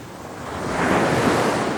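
Ocean waves break on the California coast shore, a broad steady rush of surf building slightly louder, with some wind buffeting the microphone and no talk.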